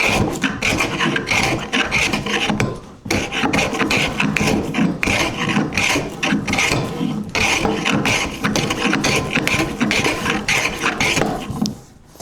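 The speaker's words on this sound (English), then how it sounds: "we're gonna use our wooden planer here" A wooden hand plane shaving a wooden board, making continuous loud, close rasping strokes in quick succession with a brief pause around the third second and no talking.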